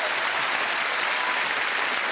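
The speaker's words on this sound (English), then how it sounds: "Big applause. Big round of applause for Chris Davies." A studio audience at a television cookery competition applauds, dense, even clapping at moderate volume with no voices over it.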